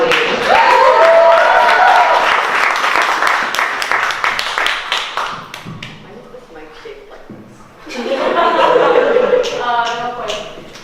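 Audience at a youth spoken-word poetry showcase claps, stomps and snaps, a loud dense burst that tapers over several seconds, with a voice speaking over the fading noise before a second swell of applause.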